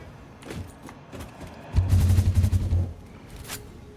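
Cannon launch in the factory-building game Satisfactory: a heavy booming burst with rumbling low thuds lasting about a second, preceded by softer mechanical knocks and followed by a short sharp whoosh, fairly close and loud.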